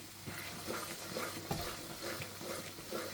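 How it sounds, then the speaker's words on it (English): Food is stirred in a pot while cooking Nigerian gizdodo, with soft scraping and clinking of a spoon over a quiet background sizzle, faint and close with no voices. "Give that a stir."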